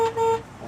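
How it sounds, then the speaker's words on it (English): A 1966 Mustang GT horn gives two short, loud honks close by, the first a brief tap and the second held a little longer, with a faint engine idle beneath. "Horn works."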